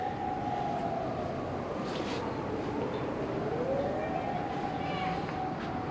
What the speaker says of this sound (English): Sirens are probably the most common sound here.